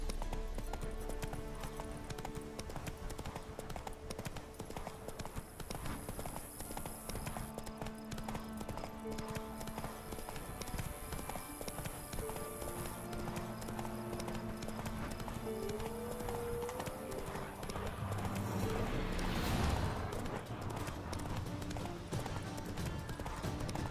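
A horse in the video game The Witcher 3 trots steadily with continuous rhythmic clip-clopping hooves, alongside game music and ambient sound, and a brief whinny or call near the end.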